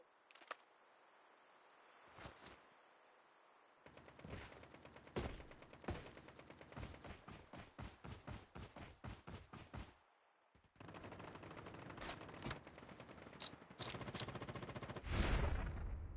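Call of Duty Mobile battle royale gunfire: single shots, then long rapid automatic bursts crackling in quick succession, with a few pauses between volleys.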